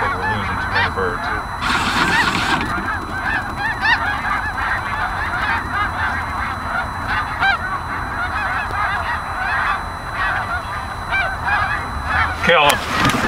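A large flock of snow geese, Canada geese and tundra swans in Delaware honks continuously, dense overlapping calls from many birds close and loud, with a brief rush of wings or wind and a sharp knock near the end.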